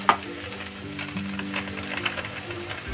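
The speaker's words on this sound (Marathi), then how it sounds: "कांदा टोमॅटो पेस्ट फ्राय झालेली आहे।" Onion and tomato paste frying in a pan for a dhaba-style chicken gravy, a steady soft sizzle with faint stirring scrapes throughout, no voices.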